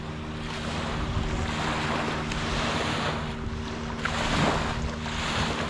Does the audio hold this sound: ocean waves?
yes